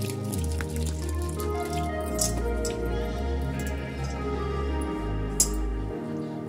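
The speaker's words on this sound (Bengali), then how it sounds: "এবার আমি জল দিয়ে দিচ্ছি।" Water poured onto flour for paratha dough makes soft dripping, squishy liquid sounds over a steady low tonal hum.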